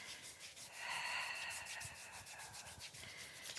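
A body scrub is rubbed over the skin of a forearm toward the elbow, producing a soft, close, continuous rubbing sound that is faint, steady and free of speech.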